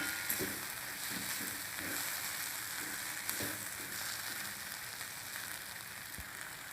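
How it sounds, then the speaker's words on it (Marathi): Ivy gourd sizzles in a pan as it is stirred, a soft continuous frying hiss with faint occasional scrapes of a spoon, no talking. "आता हे दोन मिनटं छान हलवायचं म्हणजे करपत नाही"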